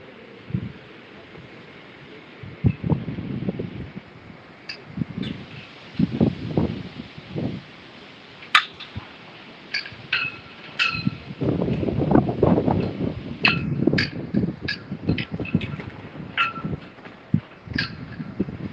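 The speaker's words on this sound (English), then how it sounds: "Lots of wind, lots of wind." Wind blows outdoors in gusty rumbles against the microphone, with intermittent voices and scattered brief sharper sounds over the top.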